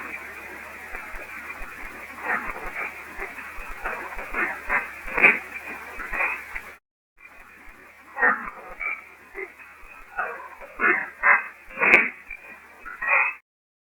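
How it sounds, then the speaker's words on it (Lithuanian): Frogs croak in a swamp near an old iron railway bridge, making rhythmic pulsing calls in bursts that come through a brief gap. "Varlės turbūt. Pelkiai."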